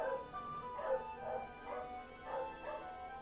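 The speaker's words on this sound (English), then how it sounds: "They're probably barking away at my brother who's outside." Household dogs barking faintly in the distance, a few short yips spaced across a quiet room with a steady background hum.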